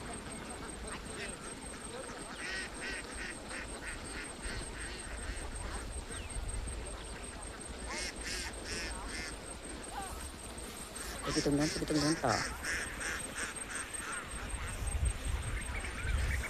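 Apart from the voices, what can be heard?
flock of herded ducks quacking in a rice field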